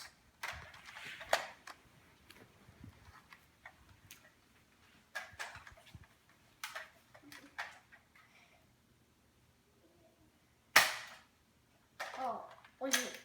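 Toy nerf gun firing foam darts indoors, sharp isolated pops and clicks at irregular intervals with quiet gaps between, plus faint handling noises and a loud final few snaps.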